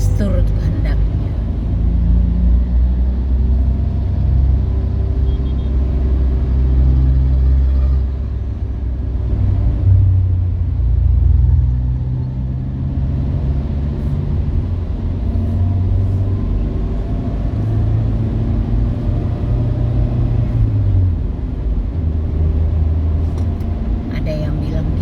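Steady low engine rumble fills the cabin of a moving car, droning continuously under a voice talking throughout.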